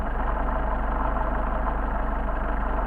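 A Mercedes 190SL engine with Solex carburetors idles steadily and close by, a low, even, throbbing rumble that holds at one level throughout with no talk.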